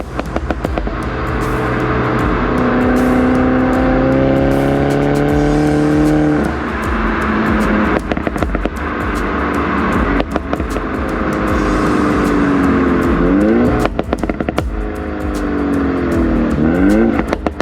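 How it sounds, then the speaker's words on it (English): A car driven hard through corners on proper suspension and tires, its engine loud and close, revving up through rising gear pulls and dropping off between shifts, steady and continuous throughout. "It's quite scary how well this car can do in the corners with proper suspension and proper tires."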